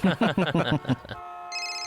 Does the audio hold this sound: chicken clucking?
no